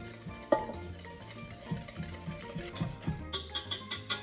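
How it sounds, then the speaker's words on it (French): Boiling milk is stirred into a cream mixture for a strawberry cake, with a utensil scraping and tapping the bowl in a steady rhythm of soft knocks that grow quicker and sharper toward the end. "Je le verse bouillant dans la préparation que j'ai déjà faite. Évidemment, je touille toujours."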